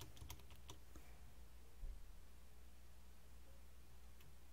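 A quick flurry of computer keyboard keystrokes types a name for a game mod, close and crisp at the start, then fades into a low, steady room hum.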